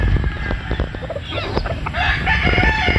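Young game-bred rooster stags crow nearby, strained calls rising over a busy farmyard backdrop of clucking fowl and rustling.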